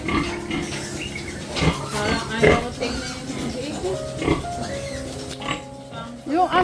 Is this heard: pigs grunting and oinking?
yes